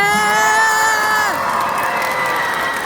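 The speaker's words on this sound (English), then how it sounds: "We have a final round of applause for these guys." A crowd cheers and whoops at the end of a fan Q&A on a BFDI x II tour stop in Houston, loud and sustained, with children's shouts and a tonal sound fading out early.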